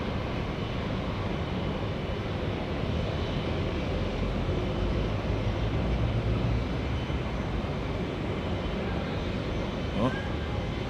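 Jet aircraft arriving at Auckland Airport in New Zealand, a steady broadband roar holding at constant loudness from a distance throughout, with a faint brief tone near the end.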